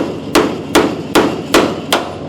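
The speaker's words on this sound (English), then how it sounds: "give it a hit and it will actually break the spot weld off" Five evenly spaced, sharp metallic hammer strikes land on a chisel driven against a spot weld in a classic car's floor panel, each close and loud with a short ringing decay.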